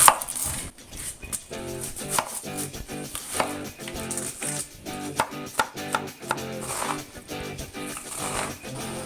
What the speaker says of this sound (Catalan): Ara agafarem la ceba i la picarem ben petitona.